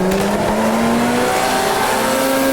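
Formula Junior race car engine in the Automobilista 2 sim racing game, revving loudly and steadily as it climbs back up through the gears on track, with a faint tire squeal mixed in, no talking.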